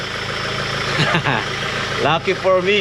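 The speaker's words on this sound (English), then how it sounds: "That's with the engine running," A Honda Civic with a swapped-in G23BK engine idles steadily in the background while people talk loudly over it throughout.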